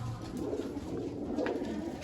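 Soft, low pigeon coos drift in faintly over a steady background hum, a couple of calls in a short stretch.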